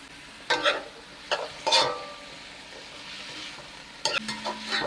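Scallions, pumpkin and carrot tumble into a hot pan for Jamaican-style steamed fish, giving a few short clattering bursts of stirring over a low, steady sizzle, close and fairly quiet.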